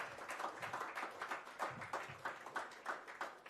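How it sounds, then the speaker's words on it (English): An audience at an award ceremony claps in a faint, steady round of applause, individual hand claps blending into a continuous patter with a few louder bursts. "Can we have a resounding warm round of applause for"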